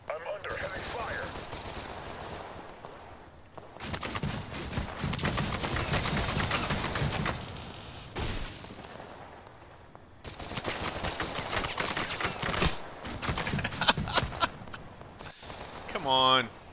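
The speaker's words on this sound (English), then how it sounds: "I'm under heavy fire." Heavy gunfire in the video game Total Conflict, with dense bursts of automatic fire in long stretches and short pauses between them.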